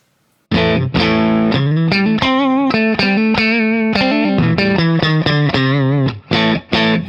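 A Chibson electric guitar with the push-pull coil split engaged on both pickups plays distorted chords and picked notes, loud and close, starting after a short silence, with quick rhythmic breaks toward the end.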